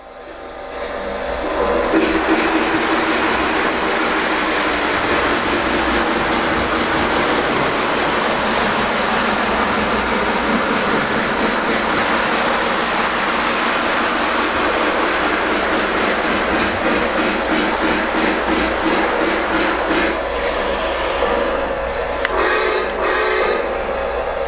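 A Lionel toy electric train motor whirs steadily with a rapid rhythmic clatter of wheels on track as it pulls two cars up a grade toward elevated track, close and loud throughout, rising slightly toward the end.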